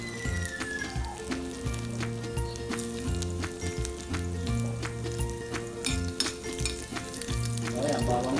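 Garlic sautés in hot oil in a pan, making a crackling sizzle of quick, dense pops that runs under steady background music.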